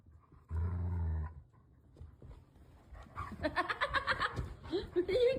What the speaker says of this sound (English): This person has a puppy that doesn't have any legs.